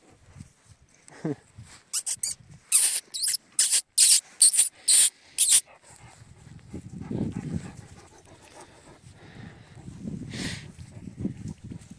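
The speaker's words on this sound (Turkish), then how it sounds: "Kırmızı köpeği ısırıyor, kovalıyor," Dogs scuffling and playing, with a burst of rapid loud sharp noises followed by panting, snuffling and low growly rustling close by.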